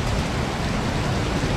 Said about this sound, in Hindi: लेकिन अभी तक बारिश जो है वो बरस रही है, बाहर जा नहीं सकते कहीं।